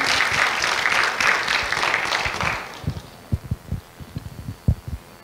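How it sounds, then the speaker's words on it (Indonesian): A seminar audience claps together for a presenter on an animal shelter adoption program, a dense burst of applause that fades after a few seconds into scattered, louder single claps. "Tepuk tangannya semua."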